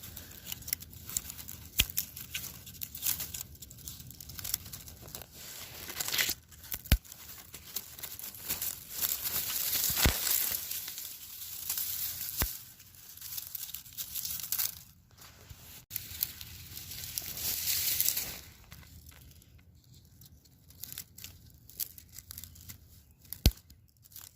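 Dry miscanthus grass stems being cut and pruned by hand give close, irregular tearing and crinkling snaps, with a denser rustling burst near the middle and scattered sharp cuts throughout.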